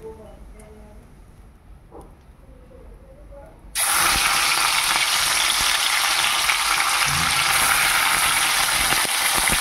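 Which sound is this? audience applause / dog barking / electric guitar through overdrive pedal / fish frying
fish frying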